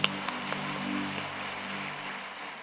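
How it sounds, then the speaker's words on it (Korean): A church congregation at a Korean revival prayer service applauds God; a dense, even, rain-like wash of clapping with a few sharper claps early, held at a moderate level throughout. "하나님께 큰 박수 드리겠습니다"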